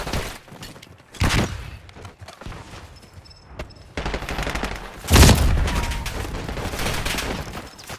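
Rapid gunfire and explosive booms from Call of Duty Black Ops 6 Zombies on the Liberty Falls map, sustained bursts with a loud thudding blast midway, dense and close throughout.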